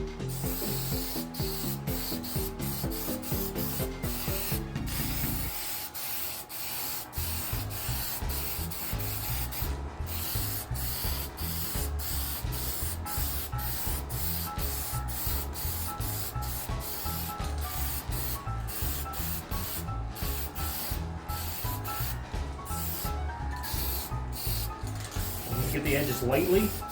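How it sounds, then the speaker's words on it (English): Rattling aerosol spray paint hisses in long bursts over the top of a DIY JEM guitar kit body, sprayed with the grain, with faint rhythmic mechanical knocking beneath and one brief pause. "We're just going to spray the top, let it sit, and then I'm going to come back and get the edges. So I'm going to spray with the grain this time."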